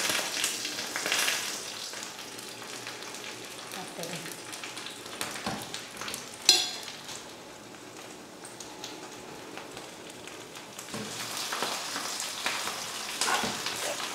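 Fish fillets frying in a pan on a stove over low heat, a steady soft sizzle and crackle running throughout, with faint occasional clinks and a brief louder knock.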